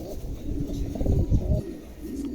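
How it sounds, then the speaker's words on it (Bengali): A pair of American Lakka pigeons coo close by at a pigeon sale, giving low, rolling, repeated coos with a soft murmur in the background. "চমৎকার একজোড়া আমেরিকান লাক্ষা আছে"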